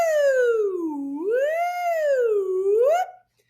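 A voice imitates a siren as a vocal warm-up, sliding smoothly down, up, down and up again in a clear, loud, wavering tone before cutting off.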